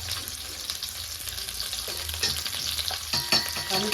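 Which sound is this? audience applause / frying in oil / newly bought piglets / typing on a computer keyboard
frying in oil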